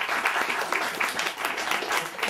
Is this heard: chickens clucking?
no